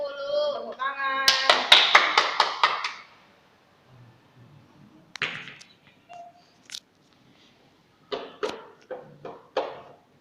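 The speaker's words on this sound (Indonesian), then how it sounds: "Tepuk tangan." A classroom group claps hands in a quick burst of sharp, bright claps, then scattered shorter rounds of claps return after pauses, with children's voices briefly heard between them.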